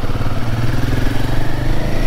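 Royal Enfield Himalayan 450 motorcycle riding off at night, its engine a steady, loud, close thumping drone with a low pulsing rumble throughout, no speech.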